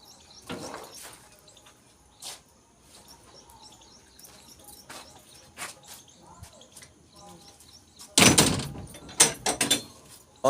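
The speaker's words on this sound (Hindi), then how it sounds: "अब दरवाज़ा लगा दो ना" A door being closed, heard as a sharp, loud bang late in the clip after several quieter clacks and knocks, with light bird chirps scattered through the otherwise quiet outdoor background.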